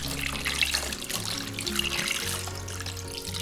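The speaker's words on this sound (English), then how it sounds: "Then rinse them again under running water." Tap water runs steadily into a sink, splashing and trickling as eggs are rinsed under the stream, close and continuous with no talking.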